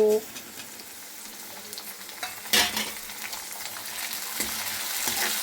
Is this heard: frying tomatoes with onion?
yes